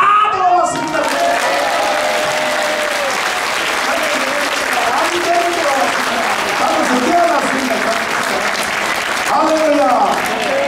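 A church congregation at a pastors' prayer meeting in Busan claps loudly and steadily, sustained for several seconds, with a voice talking over the clapping in places and a brief surge near the end.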